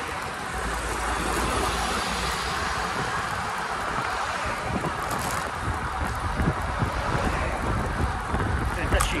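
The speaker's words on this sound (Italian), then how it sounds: "faccio il vento forte" Strong wind roars steadily into the microphone, loud and continuous with gusty buffeting that picks up toward the end.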